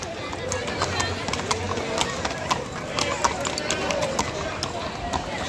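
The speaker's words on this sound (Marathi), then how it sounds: "अरे दुसरा घोडा पण आला इकडे" Horse hooves clip-clop in a steady trotting rhythm at moderate distance in Matheran, mixed with outdoor crowd noise and people talking.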